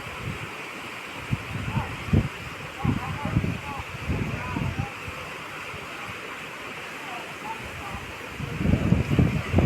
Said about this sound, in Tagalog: Hala, sugas hangin.